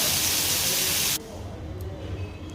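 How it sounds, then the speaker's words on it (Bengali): Prawns frying in hot oil in a home kitchen, a dense steady sizzle for about a second before dropping to a quieter low bubbling. "তেলটা ভালো করে গরম করে মাছগুলো দিয়ে একটু ভেজে নেব।"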